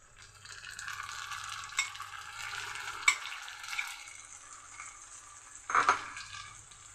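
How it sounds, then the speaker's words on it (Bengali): Tomato, green chili, garlic and onion paste frying in a pan: a steady close sizzle with stirring scrapes, a sharp clink near the middle and a louder stir burst near the end, with no voices. "এগুলো একটু ভাজা ভাজা করে নেব।"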